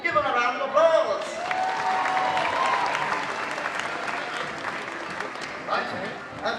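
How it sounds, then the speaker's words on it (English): An audience applauds the cast of a live Ewok stage show at Star Wars Weekends, a dense, steady wash of clapping that carries through the whole stretch, with voices talking over it and brief whistle-like tones near the start. "Give them a round of applause."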